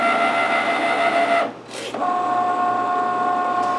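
A Cricut Maker cuts fabric with its rotary fabric blade, giving a steady whirring mechanical drone with tonal motor hum. A short pause comes about a third of the way in, then the whirring resumes at the same level to the end.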